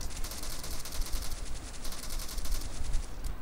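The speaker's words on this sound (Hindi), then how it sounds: "ओए कौन गोलियाँ चला रहा है मुझ पर" Rapid bursts of gunfire in the PUBG Mobile battle game, a steady dense rattle of repeated shots running through the whole moment at fairly close range, with no talking over it.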